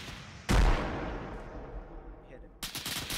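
A single heavy gunshot booms in ArmA 3, loud and close, its echo tailing off before another sharp burst of fire arrives near the end.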